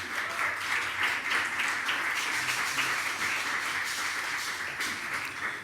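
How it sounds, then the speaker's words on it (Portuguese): An audience in an auditorium at the Madeira Social Security Institute gives sustained, even applause that stays dense and steady throughout, with no talk over it. "Forte aplauso uma vez mais para eles."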